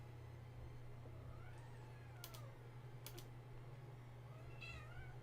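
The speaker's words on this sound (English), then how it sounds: "my cat is whining" A pet cat whines faintly in the background of a quiet room, a few thin rising meows spread across the stretch, with soft keyboard clicks and a low steady hum beneath.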